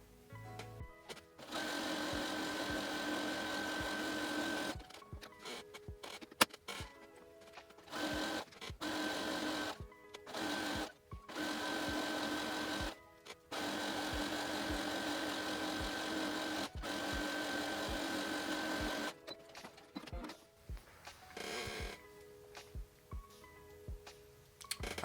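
A sewing machine runs in repeated sustained bursts, whirring steadily for several seconds at a time with short pauses between, as fabric seams are stitched around all four sides of a DIY garden grow bag, close and moderately quiet.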